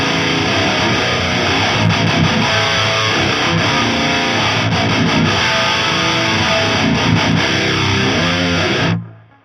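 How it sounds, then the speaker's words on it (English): Distorted metal guitar through an amp sim, played with a pseudo double tracking stereo effect, loud and dense for about nine seconds before stopping abruptly, with no voice over it. "we're going to check out the pseudo double tracking feature that we have up here"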